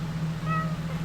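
A single short cat meow rises clearly above a steady low hum, close and moderately loud.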